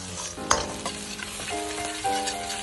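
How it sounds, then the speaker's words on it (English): A Thai holy basil stir fry hisses in homemade pork oil, with a bright continuous sizzle, clanking spatula strokes and a few sharp metallic taps, close and alone. "You have to really fry them."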